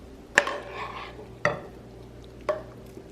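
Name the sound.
fluffing cooked rice with a fork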